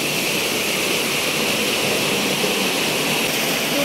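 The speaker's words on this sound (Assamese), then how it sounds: "পুৰা বৰষুণ দিছে" Heavy monsoon rain pours down steadily, a loud, dense hiss with no breaks and no voices.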